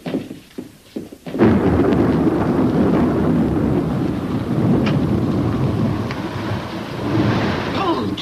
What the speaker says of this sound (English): A big storm coming.